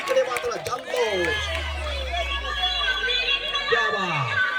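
Crowd cheering and hubbub at a tense final match of a local tournament, a steady roar of many voices with a commentator talking over it and a low droning tone underneath.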